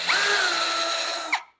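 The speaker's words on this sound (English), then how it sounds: "And that was set on hammer drill with torque of 10." A cordless hammer drill set to hammer mode bores through a 2x4, a loud high whining motor held steady for over a second, then a quick pitch change as it breaks through and spins down to silence.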